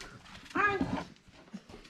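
A dog at a lake cabin whimpers to be let out, giving one short, close whine in the middle of an otherwise quiet moment, followed by faint rustling.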